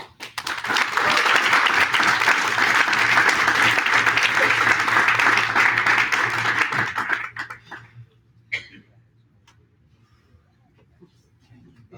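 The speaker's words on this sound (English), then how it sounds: "Let's give yourselves another round of applause." Loud, dense audience applause at a graduation ceremony, steady for about seven seconds before thinning out to a few scattered claps and quiet room noise.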